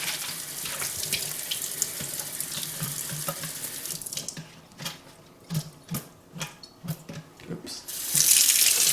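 Cold water runs from a filtered faucet into a sink in a steady stream that breaks into irregular splashing bursts partway through, loud and close.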